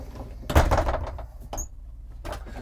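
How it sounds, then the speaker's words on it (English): The half-bath door inside a 2022 Newmar Super Star 4059 motorhome closes with a couple of close, solid thuds about a second apart, and nothing else is heard around them. "So I can go in here, close the door."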